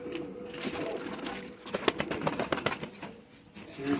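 Kasuri pigeons call close by with harsh, rough coos and cries, in rapid overlapping bursts over a steady rustling background.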